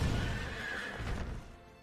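A pony in the video game Child of Light whinnies close and clear, a drawn-out tonal neigh with some hoof clatter beneath, fading toward the end.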